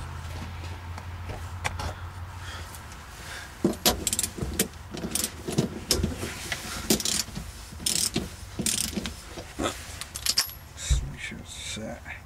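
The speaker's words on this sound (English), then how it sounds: "All I gotta do is torque it down." A torque wrench snugs the new washer and nut on the upper rear shock mount of a 1997 Buick Riviera to 15 foot-pounds, giving close, irregular metallic ratcheting clicks and clinks in short bursts.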